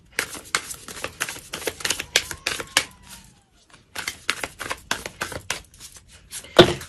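Tarot cards are shuffled in rapid riffling bursts, a dense run of crisp slaps and clicks. After a short pause near the middle the shuffling resumes, close and fairly quiet, with no talking.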